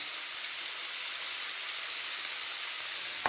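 Ginger and garlic paste frying in a pan with capsicum, giving a steady, bright sizzling hiss that holds evenly throughout, with a faint clink near the end.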